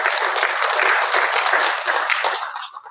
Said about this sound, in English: A round of applause for Nigf.